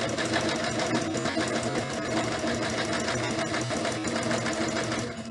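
A sewing machine runs steadily while stitching a French seam on a cotton pillowcase, producing a close, continuous mechanical whir that holds for several seconds and dips slightly at the end.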